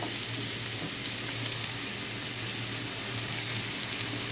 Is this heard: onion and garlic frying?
yes